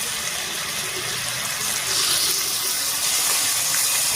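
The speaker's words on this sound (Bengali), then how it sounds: "একই সঙ্গে দিয়ে দিচ্ছি একটুখানি মশলা বাটা জল" Spice-paste water is poured into a pan of cooking ash gourd for a tilapia fish curry, giving a steady watery hiss and gush that grows a little louder partway through, close and continuous with no talk.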